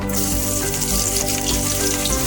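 Steady, dense sizzle of garlic frying in hot oil, close and continuous with crackling texture throughout, no talking.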